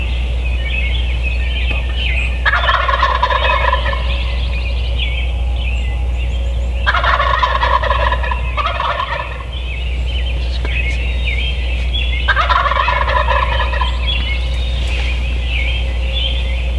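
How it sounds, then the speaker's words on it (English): Wild turkeys gobbling loudly in repeated bursts, three main rattling calls spaced several seconds apart, over a constant low wind rumble during a springtime bowhunt. "the birds started gobbling"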